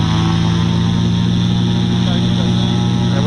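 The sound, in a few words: aircraft engine run up to full throttle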